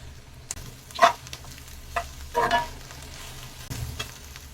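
Washed, chopped coriander leaves sauté in a pan for chutney, a low sizzle with a few distinct stirring scrapes and clatters.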